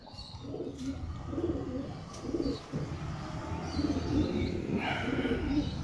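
Madras pigeons coo close by in repeated, soft, rolling phrases, with a few higher chirps and a faint flutter over a steady background hum.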